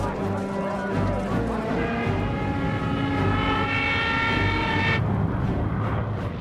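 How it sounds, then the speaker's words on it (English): World War II aircraft flying overhead, a loud droning engine roar that swells and rises in pitch as the planes pass, then cuts off abruptly near the end. "Planes heard 3 miles"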